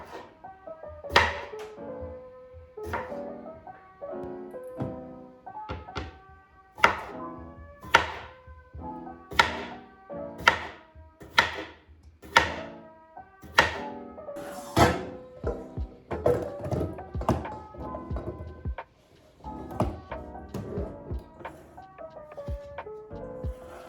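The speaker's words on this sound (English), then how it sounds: "So I'm just gonna cut these potatoes up." A knife cutting through potatoes on a cutting board while cooking at home, a steady run of sharp, close chopping thunks with short gaps between them, then a stretch of quicker, busier cuts, with no talking.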